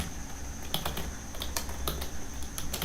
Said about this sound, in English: Now we'll type something in here, okay.